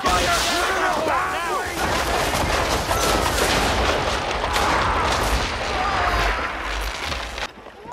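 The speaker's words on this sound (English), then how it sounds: "Fire swivel! Now!" Ship-mounted swivel guns firing in an Assassin's Creed 3 naval battle, a continuous barrage of loud, overlapping blasts and cracks with sea and battle noise throughout, with shouted voices mixed in.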